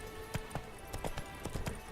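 Horse hooves in The Witcher 3 clip-clop in a quick, uneven galloping rhythm. The beats are faint but distinct and come in pairs and clusters across roughly two seconds.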